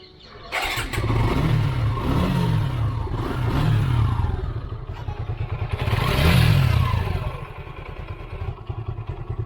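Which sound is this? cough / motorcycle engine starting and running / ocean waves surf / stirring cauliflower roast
motorcycle engine starting and running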